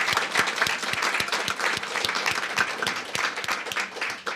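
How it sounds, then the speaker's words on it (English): An audience at a 37th District California State Assembly candidate forum applauds steadily for several seconds, a dense patter of many hands clapping indoors at moderate loudness. "How about a round of applause for our volunteers?"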